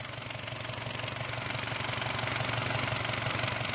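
An Isuzu D-Max engine with worn piston rings runs at a steady idle, a loud, continuous low rumble with a regular pulsing beat throughout, with no talk.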